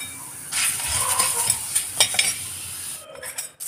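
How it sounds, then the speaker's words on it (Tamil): Guava leaves dry-roasting in a hot pan give a soft crackling sizzle with repeated scraping stirs and light clinks of a utensil against the metal, close and steady, with no talking. "இலையெல்லாம் நல்லா வறுந்துடுச்சு பாரு சவுண்டெல்லாம் தெரியுது பார்த்தீங்களா?"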